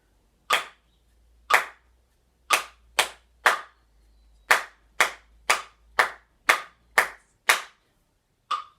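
A single pair of hands claps out a counted rhythm, thirteen sharp, close claps alone in a quiet room, spaced unevenly in long and short note values.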